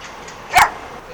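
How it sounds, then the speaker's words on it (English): A big dog lets out a single sharp bark on a Seattle city street, one brief loud burst over a low background hum, with no other barks around it. "That's a big fucking dog."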